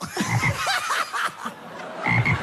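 Repeated throaty frog croaks, loud and close, in rapid bursts across the whole clip, the calls rising and falling in a rough chuckling rhythm.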